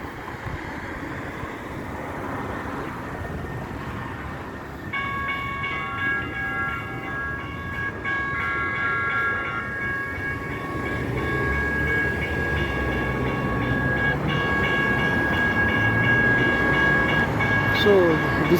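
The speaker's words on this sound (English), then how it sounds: "this is a railway station, local railway station" A train rolls through a local railway station, a loud, rising rumble with a long sustained tonal whine, growing closer, while people talk in the background.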